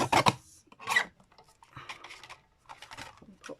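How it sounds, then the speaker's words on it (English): A mini paper trimmer slices through card in a few quick, rasping scrapes, each a short burst with brief gaps between, up close in a quiet room. "So I'm going to grab my little mini trimmer, pop that in where I've made my little mark."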